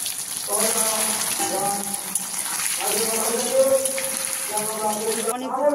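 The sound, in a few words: paneer pieces frying in hot oil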